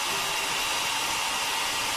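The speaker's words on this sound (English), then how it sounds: "I'll message him after I finish drying your hair." A hair dryer blows steadily while drying hair in a video game scene, a constant airy whooshing hiss with no change in level throughout.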